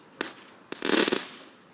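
Fireworks going off outdoors, a single sharp pop followed by a louder burst of crackling bangs lasting about half a second, then quiet.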